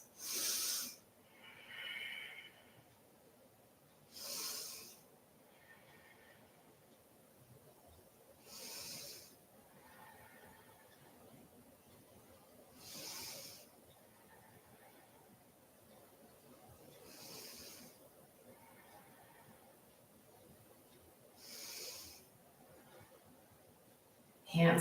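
Slow, deep breaths during a yoga pose, each airy inhale and exhale rising and fading at regular intervals of several seconds, soft and close against a quiet room.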